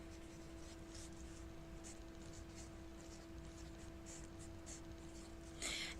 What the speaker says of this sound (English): on the top here, I'm going to start my sketch with lined